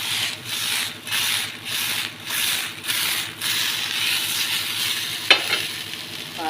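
Okra (lady's finger) frying in a pan while being stirred, a continuous sizzle that swells and fades in a regular rhythm of stirring strokes, ending in a single sharp knock against the pan, with no voices.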